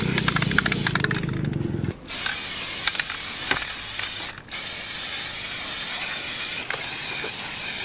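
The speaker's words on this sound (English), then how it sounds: "can waste a little bit of paint with some things with spray can" A spray can spits red paint in a long, continuous, close hiss, briefly interrupted twice by short pauses, with faint clicks and rattles from the nozzle.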